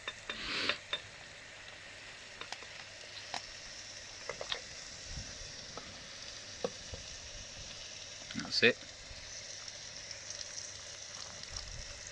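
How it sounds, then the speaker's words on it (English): Steady frying sizzle from vegetables in a pan, continuous and close, with a few clinks of a utensil stirring partway through. "they're all sizzling away nice"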